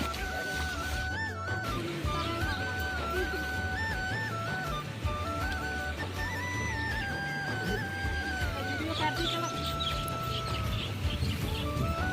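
Chickens cluck and chatter on and off at a steady distance on a farm in Konkan during monsoon rains, over a constant background hum.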